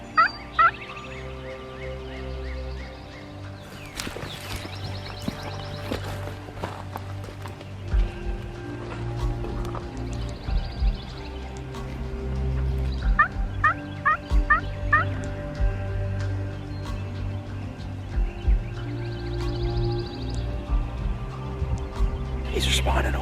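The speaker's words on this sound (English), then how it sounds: "we just heard a turkey gobble a few hundred yards that way" A wild turkey gobbles a few hundred yards off on a hillside during Alabama spring turkey season, with several short distant calls rising over outdoor ambience, soft footsteps and rustling, and people talking quietly.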